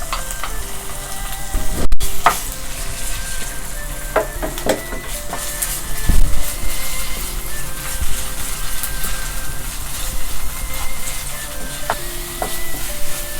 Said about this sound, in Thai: พอกระทะน้ำมันเริ่มร้อนแล้วนะคะ เพื่อนๆใส่ลงไปเลย ใส่เครื่องแกงลงไปผัดเลยนะคะ